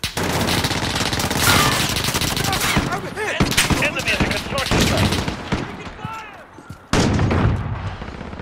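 Rapid automatic gunfire from Call of Duty: Modern Warfare rattles in dense, loud bursts, with brief pauses and a sharp restart near the end, mixed with game voice callouts.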